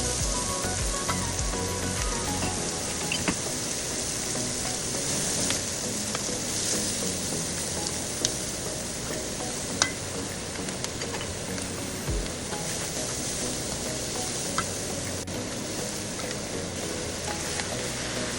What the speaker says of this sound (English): Add beef tallow to wok and fry onions and garlic for 2 minutes or until softened